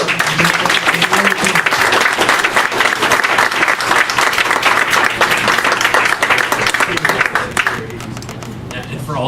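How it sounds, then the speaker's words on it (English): Loud, dense applause from a convention panel audience for a guest at a 2013 Power-Con Thundercats panel, sustained for about eight seconds with overlapping chatter and cheers before thinning out near the end. "one more round of applause for Shannon"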